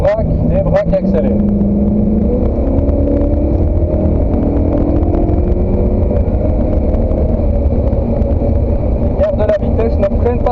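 A car driven hard around the Spa-Francorchamps circuit, its engine loud and constant as it brakes, turns in and accelerates, with shifting engine pitch and a man coaching the driver throughout.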